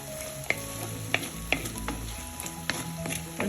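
Sliced onions with coarse rock salt stirred and frying in a pan for a fish chilli curry, a steady close sizzle broken by several sharp scraping clicks of a spoon against the pan.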